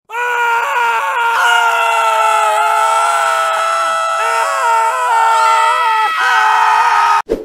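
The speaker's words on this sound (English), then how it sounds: "we're going to be hearing survivors scream for 10 hours straight" Survivors in Dead by Daylight scream in one continuous, loud, high-pitched wail that wavers and briefly dips before cutting off abruptly near the end, with no talking over it.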